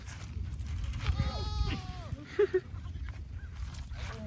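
A goat inside an emu enclosure lets out a wavering bleat, then a couple of short calls, close by over outdoor background noise and faint human voices.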